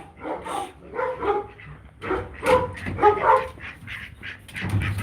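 Several dogs bark in loud, close bursts at a property that also keeps tigers. Sharp barks and yips repeat throughout, with a whimpering note near the end.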